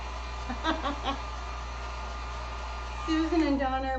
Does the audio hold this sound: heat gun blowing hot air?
yes